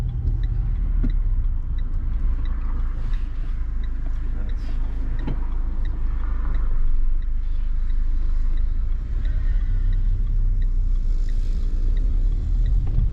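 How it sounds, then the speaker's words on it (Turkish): Car doing a hill start during a driving test, a steady low engine rumble from inside the cabin with a slight swell partway through, while people talk quietly. "yokuş kalkışı yapalım bakalım nasıl yapıyor"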